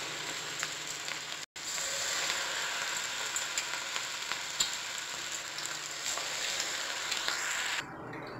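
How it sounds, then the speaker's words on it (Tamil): Cabbage kaalan patties frying in hot oil at a roadside street-food stall, a steady loud crackling sizzle with dense popping that runs unbroken apart from a brief dropout, with no voices. "ஆயில் நல்லா சூடாகிடுச்சு, இப்போ நம்ம கேபேஜ் நல்லா போட்டு தட்டை தட்டியாக போட்டு பொரிச்சுக்கலாம்"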